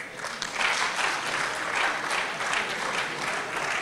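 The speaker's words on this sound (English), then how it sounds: "the best we can do is to clap for him" Applause for a visiting guest at a town hall meeting: a dense, continuous wash of clapping from a sizeable audience, moderately loud and sustained throughout without a break.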